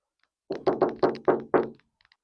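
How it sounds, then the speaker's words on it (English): Knocks on a caravan door at a UK caravan site, six firm hollow raps in a quick steady run, close and clear, followed by a few faint ticks and silence. "So I'll best give him a knock and let him know what's happened."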